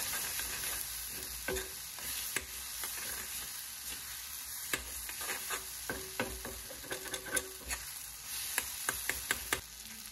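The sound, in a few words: stirring egg and tomato stir fry with a spatula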